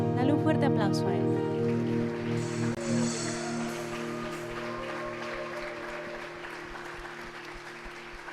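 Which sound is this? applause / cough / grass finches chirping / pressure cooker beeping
applause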